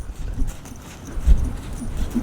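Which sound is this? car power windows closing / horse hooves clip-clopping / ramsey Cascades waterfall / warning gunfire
horse hooves clip-clopping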